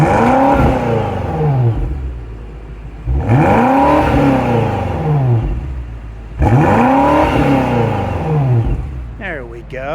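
A 2024 BMW X6M's engine and exhaust rev three times close up, each blip rising into a loud roar and falling back to a rumbling idle, with a brief voice right at the end.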